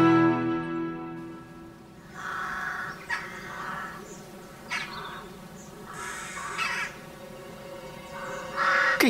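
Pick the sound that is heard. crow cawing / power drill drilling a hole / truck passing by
crow cawing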